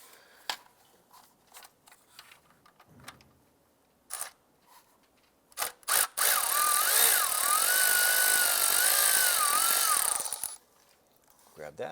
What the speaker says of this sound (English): remove this 8mm screw right here